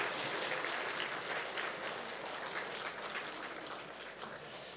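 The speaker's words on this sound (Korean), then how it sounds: "우리 한번 크게 한번 박수로 축복합시다" A church congregation claps for the Sunday school children during a worship service, a soft, steady wash of many hands heard from a distance throughout.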